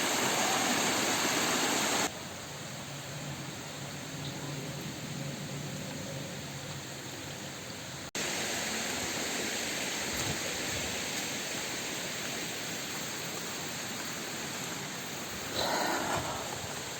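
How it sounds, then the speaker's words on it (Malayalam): Waterfall at Mattathur heard from above, a steady broadband rush of falling water that continues throughout, with a sudden drop in level partway and a brief rise near the end. "ഇതാണ് ആ വെള്ളച്ചാട്ടത്തിൻ്റെ മുകളിൽ നിന്നുള്ള ദൃശ്യം"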